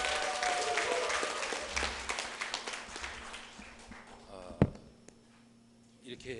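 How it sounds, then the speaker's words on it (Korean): Audience applause welcoming a panelist at a community talk concert with a district head, a fairly faint spread of clapping that fades out midway, with voices and a single sharp knock near the end. "여러분 음악과 함께 모실 우리 배 단장님 뜨거운 박수로 맞으시면 감사하겠습니다."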